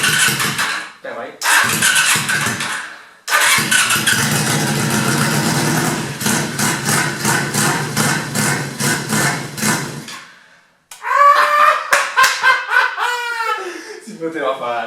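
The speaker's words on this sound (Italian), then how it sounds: "Vai, dai, proviamo a vedere se parte." A restored scrap motorcycle engine, rebuilt as a special, cranks in short bursts, then catches and runs loudly and steadily for several seconds before cutting out, with voices chattering close by afterward.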